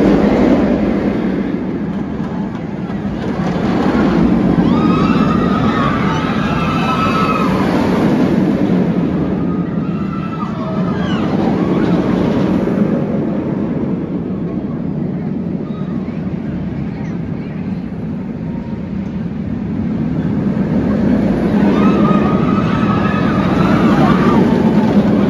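Batman the Ride roller coaster at Six Flags Great Adventure gives a loud, continuous rumbling roar of the train on the track, swelling and easing in waves over many seconds, with faint crowd sounds mixed in.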